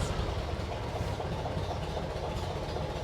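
A Ford Model A engine idling with a light clickety-clack: a steady, dense mechanical rumble with a continuous rattle, close and unchanging throughout.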